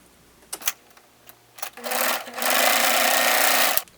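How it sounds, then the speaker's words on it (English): A sewing machine stitches a blouse seam, with a few clicks and handling sounds before a loud, steady whirring run of close stitching that stops abruptly near the end, no talk. "Now we're going to open this up so the seam is in the middle, and then we're going to sew this top part."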